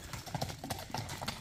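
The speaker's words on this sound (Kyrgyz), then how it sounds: "Жаныбардын чуркаганын дагы бир көрүп коелу" A racing horse gallops, its hooves clip-clopping in quick, uneven beats, faint and fairly distant, with no talk over them.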